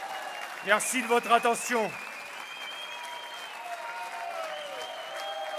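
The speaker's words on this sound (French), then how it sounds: "je crois qu'on peut l'applaudir très fort" Audience applause bursts out at a young farmers' union campaign launch meeting in France, a crowd clapping loudly for about a second, then fading into a murmuring room with a voice speaking.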